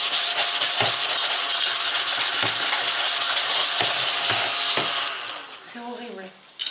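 Strips being cut from a sheet of paper on a drafting board, a rapid, continuous scratchy rasping broken by soft knocks, fading out near the end into lighter handling sounds.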